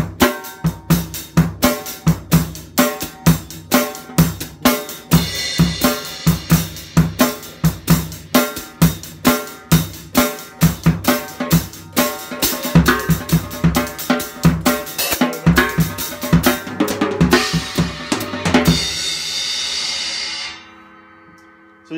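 A full drum kit plays a driving 6/8 groove with steady kick, snare and cymbals; the pattern shifts to 4/4 partway through by metric modulation, then ends on a ringing crash.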